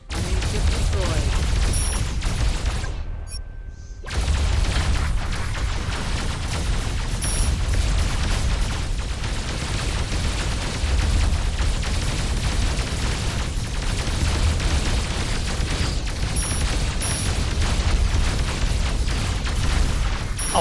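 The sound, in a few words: enemy ship destroyed with explosions in video game Dreadnoughts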